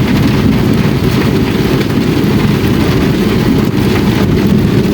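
Heavy, continuous rain with a dense low rumble, heard from inside a vehicle on the road, steady and loud throughout.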